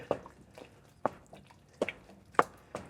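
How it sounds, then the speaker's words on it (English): Cheese is stirred into a thick meat-lovers goulash, giving soft, wet squelches and light spoon taps at an uneven pace, quiet and close. "So get that cheese in there and then just quickly stir it in."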